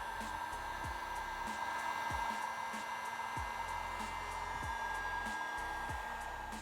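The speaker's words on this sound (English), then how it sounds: "you're gonna use a heat gun" A heat gun blows steadily while heating a hose clamp on a 2018-or-newer Mustang, making a continuous, even airy drone with faint periodic ticks beneath it and no talking.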